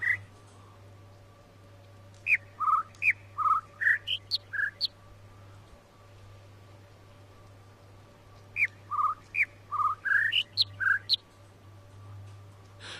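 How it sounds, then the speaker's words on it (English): Bird calls in the jungle of the video game The Witness play as two separate phrases, each about eight bright whistled notes jumping among high, low and middle pitches, with a quiet pause between them over a soft steady background hum. "Is that second bird saying anything meaningful?"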